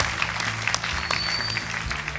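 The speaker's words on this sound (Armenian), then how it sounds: "եկեք ծափանենք եւս" Applause from a gala audience, a steady, dense clapping that holds at an even level from start to finish, close and full.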